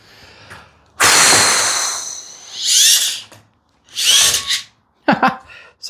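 A micro RC truck's small electric motor whines at full throttle in several bursts, rising and falling sharply with short pauses between, loud and close.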